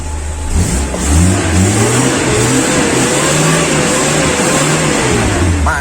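A car engine revs under repeated throttle, its pitch sweeping up and down in rising and falling surges over a constant loud, nearby rumble, with no voices.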